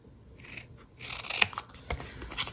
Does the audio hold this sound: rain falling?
no